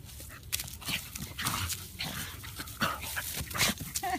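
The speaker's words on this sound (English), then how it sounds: "Hey, Zebu, is he wearing you out?" A dog panting and playing nearby, with quick bursts of breathy panting and snuffling, small whimpers and scuffling, irregular and fairly close, with no talk.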